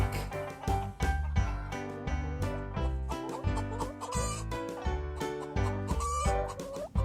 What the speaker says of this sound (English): Hens cluck.